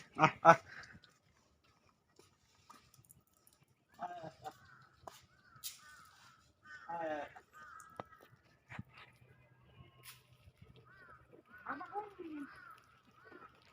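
Large crows caw repeatedly from nearby trees, harsh calls spaced out across the scene with people talking in between.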